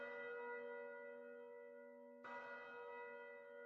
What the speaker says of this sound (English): The sound of bells rings out from the town church as a crimson tinge spreads across the sky.